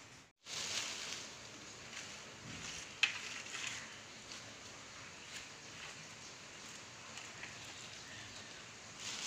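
Monsoon rain falls steadily in a soft, even hiss with occasional patters, quiet and distant, with no voices present.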